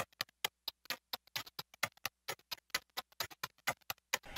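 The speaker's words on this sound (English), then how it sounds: "I just added some bit crusher and some chorus to kind of give it some width and some different texture." Short, snappy foley clicks and ticks in a quick rhythmic loop processed with bit crusher and chorus, gritty and crunchy in texture, with brief silences between hits.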